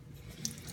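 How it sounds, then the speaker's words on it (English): Running water flows steadily from a tap into a sink while something coated in tacky, sticky oil residue is scrubbed with an orange essential oil scrub, a soft continuous wash with one faint drip-like blip. "Put a little bit of water"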